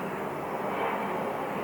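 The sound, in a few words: helicopter flying overhead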